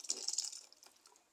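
Fermented raisin and cherry wine is poured into fruit cake batter, giving a brief liquid splash and trickle that fades over about a second.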